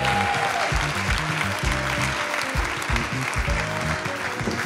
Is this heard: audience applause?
yes